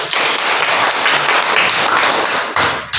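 Classroom applause during an online teacher-training lesson, a dense crowd of hands clapping steadily and loudly for about three seconds, with a brief dip near the end.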